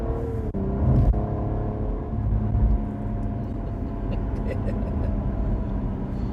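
Cadillac ATS-V twin-turbo sedan with 465 hp accelerating hard, heard from inside the cabin as a steady loud engine roar and rising drone, with a brief shift-like dip early on.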